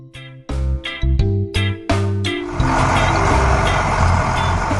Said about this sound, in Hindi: एक पीला ट्रक सामान लेकर पहुंच चुका है